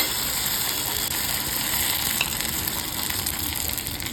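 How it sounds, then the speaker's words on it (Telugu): Sun-dried rice flour vadiyalu fry in hot oil, giving a steady, dense, unbroken sizzle that stays close and even throughout, with no talking. "ఇవి మనం వేయించుకొని కూడా చూపిస్తానండి చూడండి ఎంత బాగా వచ్చాయో వేయించుకుంటే"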